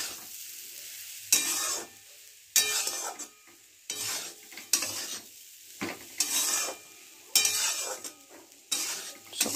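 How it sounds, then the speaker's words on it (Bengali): Lentils being stirred and fried in a pan for a kachori filling, heard as repeated bursts of sizzle and scraping spoon strokes roughly every second, with quiet gaps between strokes. "ডালটা দিয়ে ভালো করে কষিয়ে নেব, ভালো করে মিশিয়ে নেব।"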